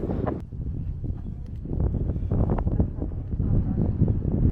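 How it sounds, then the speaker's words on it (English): Steady low rumbling buffets of wind batter the microphone on a seaside overlook, a dense, blustery roar with no clear pauses. "it's a little bit too windy here"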